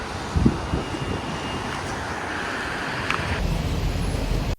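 Terek River rushing through a mountain town in Georgia: a steady broadband roar of flowing water mixed with wind buffeting the microphone, continuous and fairly loud, with no voices.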